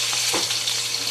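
Garlic, curry leaves and ginger fry in hot oil with a loud, dense crackling sizzle, heard up close for a brief moment without speech.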